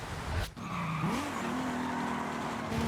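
A German car in Forza Horizon revs with a rising and settling engine tone, then holds a steady drone as it drives on, with a brief tyre-squeal burst early and no talk.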